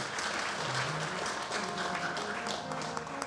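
A crowd at a Ram Katha religious discourse in Mumbai applauds, giving a dense, steady wash of clapping that holds at the same level throughout.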